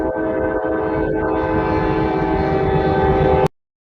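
A train rolls past on a nearby railroad track as a loud steady rumble with a sustained horn-like drone, close and continuous, ending abruptly, with no talk over it.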